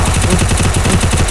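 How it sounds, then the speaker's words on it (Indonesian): Gunfire in the mobile video game Free Fire, a loud, close, rapid automatic burst of shots firing in quick rhythm throughout. "Dia balik nembak."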